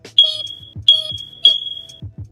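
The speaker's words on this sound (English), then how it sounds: "every time you punch in a number, it goes beep, beep," A Baofeng handheld radio gives three sharp, high electronic beeps in a steady rhythm as number buttons are punched in, each beep followed by soft, close plastic clicks of the keypad.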